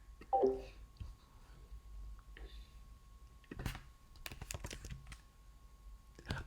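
Quiet computer keyboard typing during an online voice call, an irregular patter of soft key clicks with a few faint bursts of sound near the start, with no one talking.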